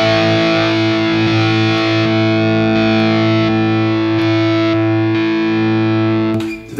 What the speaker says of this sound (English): So if I play a chord and I'll bring the gain two in, you'll hear it come in.